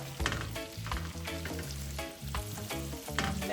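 Garlic sizzles in a hot pan for Hawaiian garlic shrimp, a constant close crackle with occasional louder pops and stirring scrapes, no one speaking.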